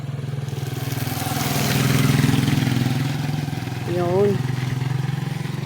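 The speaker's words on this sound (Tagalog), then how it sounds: "Ay, may motor!" A motorcycle engine drones on a wet road, swelling as it passes near and then fading, while a person briefly speaks over it.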